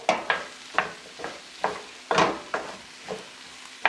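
Diced leftover turkey, mostly dark meat, stirred in a pot for a quick hash, giving about ten scraping, sizzling strokes in an uneven rhythm, close and moderately loud with no talking.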